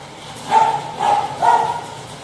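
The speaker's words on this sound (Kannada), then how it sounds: "ಅವ್ನು ಬೊಗಳ್ತಾನೆ ಇರ್ತಾನೆ ಯಾವಾಗ ನೋಡ್ರಿ" A dog gives three barks spaced about half a second apart, close and moderately loud, over a quiet indoor background with no talking.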